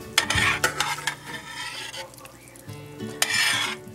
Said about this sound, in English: Once you have those 2 ingredients added, stir them together.